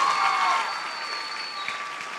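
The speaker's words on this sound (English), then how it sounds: "give a loud round of applause" Loud applause from the audience at a secondary school graduation ceremony after a student's singing, a steady, full wash of many hands clapping that eases slightly toward the end, with no talk.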